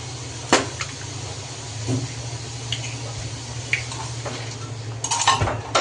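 An egg is beaten into malpua batter in a bowl, giving irregular clinks and taps of a utensil against the bowl over a low steady background hum. No one speaks.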